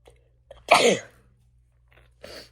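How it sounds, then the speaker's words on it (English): A single close, forceful sneeze with a short breathy buildup, followed by quieter breaths and a small sniff afterward. "I need to sneeze again"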